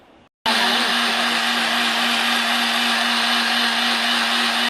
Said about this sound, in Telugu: సో దీన్ని ఇప్పుడు మనము మిక్సీ పట్టుకుందాం అనమాట